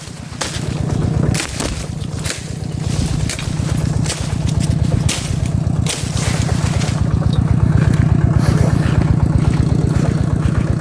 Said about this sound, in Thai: เข้ารถไถ